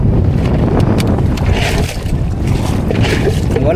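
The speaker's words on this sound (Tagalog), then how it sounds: "Maalon ang panahon." Rough sea and gusting wind batter a small fishing boat out hunting tamban, a steady broadband rush of water and wind buffeting the microphone, continuous and close throughout.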